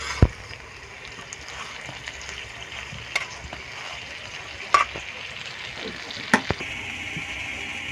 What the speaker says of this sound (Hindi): कबाबों को मिक्स कर देते हैं